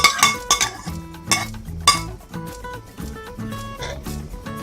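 Onion and sautéed garlic being tipped back into a metal pot while cooking pork sinigang, with loud clanking and clinking of utensil against pot in quick bursts, close up.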